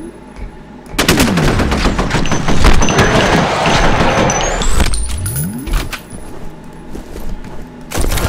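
Gunfire in the shooter game F.E.A.R. Extraction Point, with sharp, loud shots and rapid bursts cracking repeatedly, plus sweeping whooshes and ringing debris between volleys.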